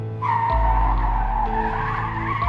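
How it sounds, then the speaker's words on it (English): Tires squeal loudly in a long sustained screech as a car skids, with engine roar underneath throughout. "There was a car speeding down, out of control."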